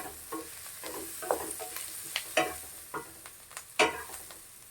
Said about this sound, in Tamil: இப்போ நம்ம எல்லாம் கேப்சிகம் எடுத்து போடுறோம். அதே கொஞ்சம் நேரம் குக் பண்ணுறோம்.